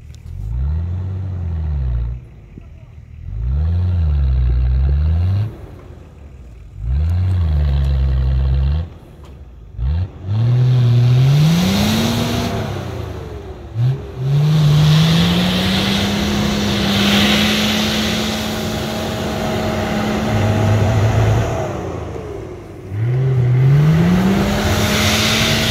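Nissan Patrol off-road vehicle in the Carpathians, its engine revving loudly in repeated bursts with pauses between, then holding a long strained high rev with rising and falling pitch as it pushes through rough terrain.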